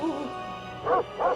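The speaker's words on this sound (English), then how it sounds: "Oh, it's a puppy." A puppy in the Nancy Drew: Ghost Dogs of Moon Lake video game gives a short whimpering yelp, then two brief, close barks.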